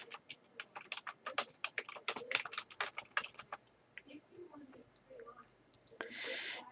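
Fast, light clattering of keys on a computer keyboard, close and quiet, in quick bursts with short pauses, ending in a brief louder rustle.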